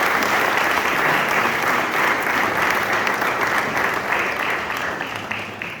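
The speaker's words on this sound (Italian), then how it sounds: "facciamo un applauso a loro" Sustained audience applause at a cultural conference event in Italy, a dense, loud wash of many hands clapping that continues throughout and slowly fades toward the end.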